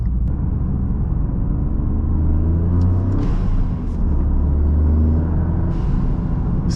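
A Toyota GR Corolla's engine droning at a steady, loud rumble while driving, the revs holding fairly even with a slight rise and dip, road and cabin noise underneath and no talking.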